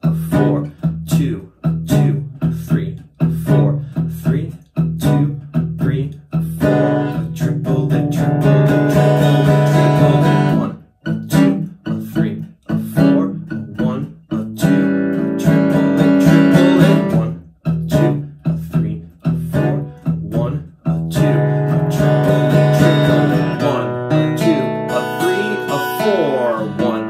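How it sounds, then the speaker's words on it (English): A 12-bar blues progression strummed on electric guitar, a loud, steady stream of rhythmic chords played alone, with short breaks between phrases. "So the whole 12 bar blues that you want to practice to help you hear your chord changes better sounds like"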